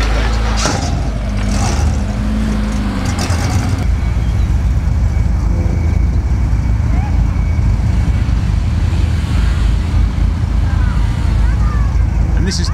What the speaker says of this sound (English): Handbrake turns, wheel spinning the hell out of this thing.